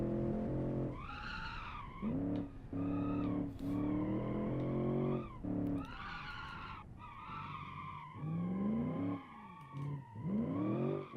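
A car engine in the driving game Automation revs up and down repeatedly, rising in pitch as the throttle opens and dropping as it eases off, loud and close throughout.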